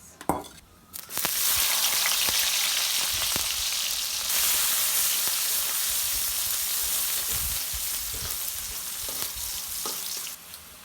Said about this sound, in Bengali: আলু ভাজি তেলের ভিতরে তেল দিয়ে দিয়েছি আমি।